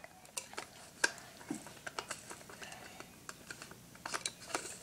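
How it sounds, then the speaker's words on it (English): A spoon clinks and scrapes against a bowl while ingredients such as blueberries, sliced bananas and pumpkin seeds are mixed, light quick taps close by and fairly quiet, with no speech. "You stir it all up."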